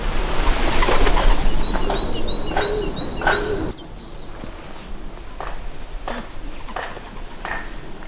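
Belgian racing pigeons coo softly in a loft, with repeated low, rounded calls, faint chirps and shuffling movement close by.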